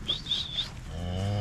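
A cow on a farm, near a livestock trailer, gives a short, fairly close moo after a brief high whistle-like call.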